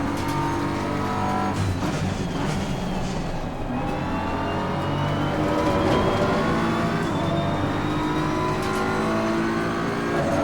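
A BMW M4 race car at Imola in the Assetto Corsa Competizione racing game, its engine roaring and revving steadily, with other cars close by and brief tire noise.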